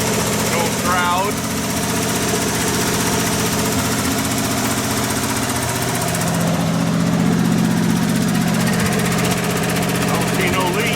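An old 1984 GMC truck engine runs steadily at idle with a continuous rumbling drone throughout, a voice talking over it.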